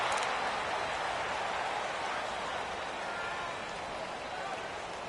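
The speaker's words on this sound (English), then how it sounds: "we got rain throughout the entire game" Rain falls steadily through a football game, an even, soft hiss of drops on surfaces, faint and continuous with no clear voices.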